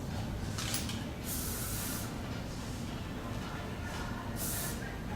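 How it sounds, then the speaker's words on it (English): Hairspray misted onto loose flyaway strands of styled hair, several short hissing bursts close by, the last two strongest, over a steady low background hum. "you can kind of just spray the little flyaways in place."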